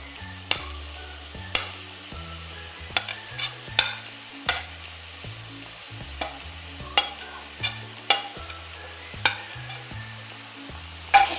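Chopped bitter gourd sautéing in a pan, a soft sizzle under a steady series of about a dozen sharp spoon clacks and stirring scrapes against the metal.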